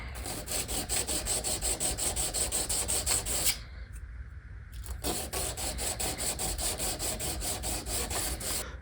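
A blade is honed on a 1200-grit stone with quick, even back-and-forth passes, a close rhythmic scraping that pauses briefly partway through before resuming at the same steady pace.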